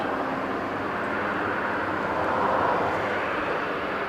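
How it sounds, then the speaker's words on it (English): A C-130 aircraft departs from Kadena Air Force Base in Okinawa, Japan, its engines making a loud, steady broadband roar that swells slightly toward the middle. "we got a C-130 about to depart"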